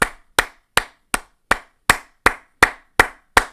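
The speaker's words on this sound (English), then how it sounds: "Igor Milicic gets a huge clap-it-up." Ten sharp, evenly spaced hand claps, a slow deliberate clap-it-up for a basketball player, each crisp hit ringing briefly into silence, close and alone.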